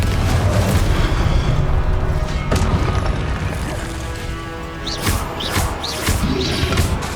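Blasting-spell explosions in Hogwarts Legacy, heavy booms and crashing impacts layered in a loud, continuous fight, with a few sharper bursts and whooshing effects near the end.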